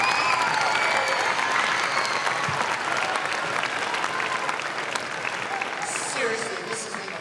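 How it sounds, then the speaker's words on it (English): Audience applause fills a school auditorium at a junior high end-of-year concert, sustained and steady for several seconds before gradually thinning out, with a few voices faintly audible in the crowd. "So give them another round of applause."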